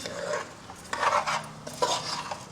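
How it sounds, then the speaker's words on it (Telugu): Soaked rice is stirred into a pan of vegetables for veg pulao, with close scraping and rubbing of a spoon against the pan in uneven strokes, no voices. "ఇప్పుడు రైస్ వేసుకుందాము నానబెట్టిన రైస్ అలా కలుపుకొని"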